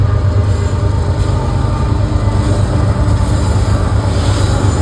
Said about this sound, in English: I heard that train way far back there.